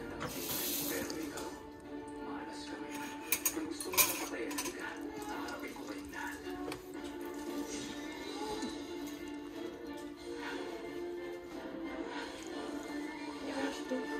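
Dishes and cutlery are washed with a sponge at a running kitchen tap, with faint water flow, soft scrubbing and occasional clinks of utensils, and quiet voices in the background.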